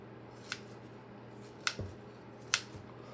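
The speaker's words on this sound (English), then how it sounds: "I use scissors to round it off when I make the slices" Scissors cutting through smoked brisket slices to round them off: three sharp snips spaced about a second apart, close and fairly quiet over a low steady hum.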